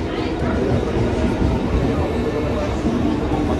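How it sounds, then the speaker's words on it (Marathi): A Mumbai suburban local train pulls into a station platform at Nalasopara. A loud, continuous rumble and rattle fills the whole stretch, with crowd noise and voices mixed into the din. "ट्रेन आली आहे आता."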